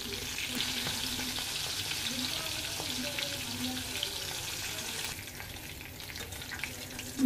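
Food frying in oil sizzles quietly and steadily throughout, with a sharp clatter of a utensil at the very end.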